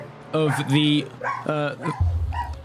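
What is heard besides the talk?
dog barking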